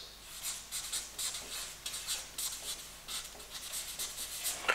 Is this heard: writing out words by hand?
yes